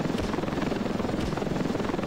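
A helicopter flies in the battle game Ravenfield, its rotor a steady, loud, rapidly pulsing thump over a dense engine roar that fills the whole stretch with no talk.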